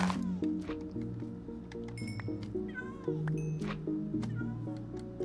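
A cat in Natural Magic Survival meows repeatedly over a looping game melody, with light clinking effects scattered between the cries.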